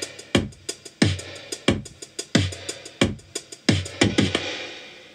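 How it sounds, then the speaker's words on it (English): A produced drum mix playing back with a sidechained kick and a somewhat muted snare, a steady loud pattern of punchy kick and snare hits with hi-hat texture, no voices. "Drums sound like this."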